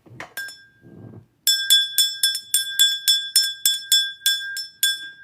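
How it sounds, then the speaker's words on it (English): A small bell rung repeatedly, bright glassy strikes in a quick uneven series with slight stutters between them, close and clear, after a few softer rustles and a faint chime at the start. "A little stutter in that bell."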